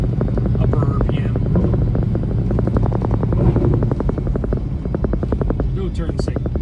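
A 1970 Dodge Challenger R/T convertible's 383 V8 with a bigger-than-stock camshaft and Performer RPM intake idles with a loud, steady, lumpy pulsing beat throughout, under occasional voices.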